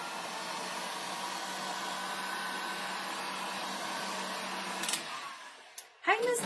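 A hair dryer blows steadily over wet Mod Podge on a fall scarecrow decoration, a constant close airy whir for about five seconds before clicking off, followed by a short clatter.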